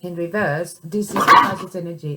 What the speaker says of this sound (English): That's my dog again.